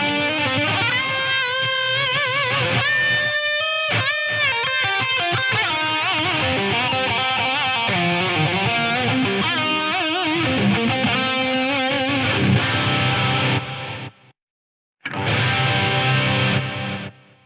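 Electric guitar runs through the gritty, lo-fi 12-bit mode of a Strymon DIG delay pedal, notes echoing and smearing together, loud and continuous with a brief gap of silence near the end.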